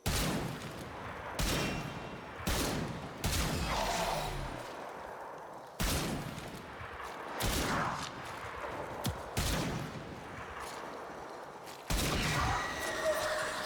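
Gunfire from the sci-fi video game Warframe: a handful of loud, sharp shots at irregular intervals, each followed by a decaying tail, with a faint background hum between them.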